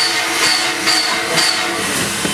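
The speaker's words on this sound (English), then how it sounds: "The engine comes running the train." A locomotive at the Railroad Museum of Pennsylvania in Strasburg runs with loud, close steam hissing and a rhythmic chuffing that pulses about every half second, with high whistle-like tones over the rumble.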